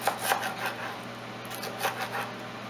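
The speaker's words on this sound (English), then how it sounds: "we're going to chiffonade all of these greens so we have the ribbons" A dull kitchen knife slicing collard greens into thin ribbons on a wooden board, a series of soft, irregular chopping thuds and scraping strokes, fairly close and steady.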